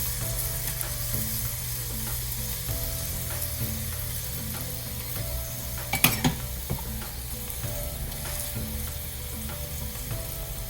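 Tomato garlic chapati sizzling in oil on a pan, a steady close frying hiss throughout with a brief clatter near the middle.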